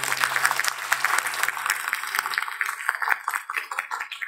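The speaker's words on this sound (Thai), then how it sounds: "ขอเสียงปรบมือแด่ท่านทั้งสี่ท่าน" Audience applause for four honoured guests at a Thai recitation tribute, steady dense clapping from a crowd that carries on for the whole stretch, with a low hum underneath that fades partway through.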